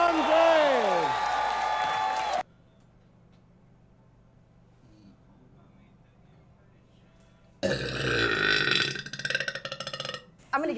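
A girl lets out a long, loud, croaking burp that wavers in pitch, followed by a stretch of near silence, then a second burst of burping with laughter and voices reacting.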